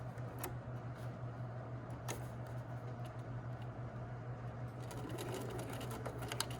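Sewing machine running at a steady low hum as it stitches a side seam of a McCalls 8051 garment at a 5/8 allowance, quiet and close, with faint scattered clicks and no talking.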